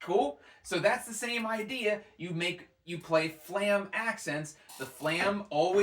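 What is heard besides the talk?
No everyday noises stand out.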